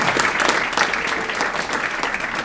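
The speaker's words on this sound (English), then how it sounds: "So let's give Maggie a big round of applause for that" A gala audience at a Catholic Climate Covenant dinner claps in a hearty round of applause, a full, close, steady roar of many hands that holds level throughout the short stretch.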